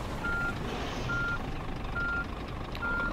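Reversing beeps from a truck in On The Road Truck Simulator, four evenly spaced single-tone beeps repeating at a steady pace over a constant low engine rumble, with no talking.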